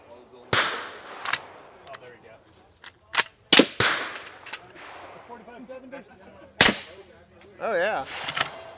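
Shots from a Henry 8.6 integrally suppressed lever-action rifle at an outdoor range day, several sharp muted cracks at irregular intervals, with people talking nearby between shots.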